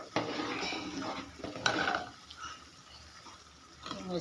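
Spice masala for khichdi being stirred and sautéed in a pan: a burst of sizzling with metal scraping and clinks, fading to a quieter hiss before another stir at the end.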